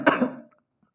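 A single sharp cough, loud and close, with a short throaty tail that fades into silence.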